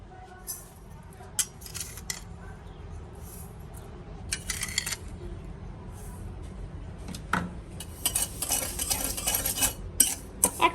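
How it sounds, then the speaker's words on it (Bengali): Sugar being stirred in a wok to make caramel for an egg pudding, heard as scattered metallic scrapes and clinks of a utensil against the pan that come in short bursts, growing busier toward the end, with no speech. "ক্যারামেল বানানোর জন্য এখন আমি চিনিটা কড়াইয়ে দিয়ে দিব"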